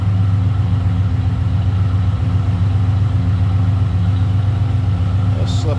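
A 1984 Chevrolet El Camino with dual exhaust idles close by from behind, a steady low rumbling burble that stays even and loud throughout.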